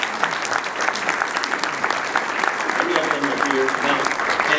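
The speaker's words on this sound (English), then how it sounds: "I want to give you guys a round of applause." An audience at a plenary talk of a technology-for-development conference gives a team a steady round of applause, full and sustained throughout, with some murmured voices beneath.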